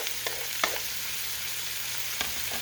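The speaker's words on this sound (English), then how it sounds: "So I'm going to go ahead and add this onion to the sausage in the pan." Chopped onion tossed onto sausage frying in a skillet on the stove: a steady close sizzle punctuated by a few sharp spoon clicks and scrapes as it is stirred, with no speech.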